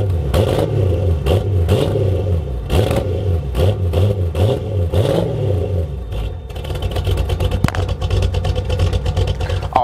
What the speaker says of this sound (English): Literally sounds like an old muscle car because the whole driveline basically is an old muscle car